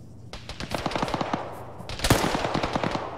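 Rapid automatic gunfire in the Arma military shooter game, dense bursts of shots rattling close and loud across the whole stretch, with a sharper blast near the end.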